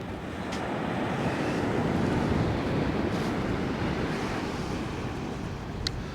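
Sea waves surging onto the beach at Sutton on Sea, a steady loud roar of surf with wind buffeting the microphone throughout, no voices.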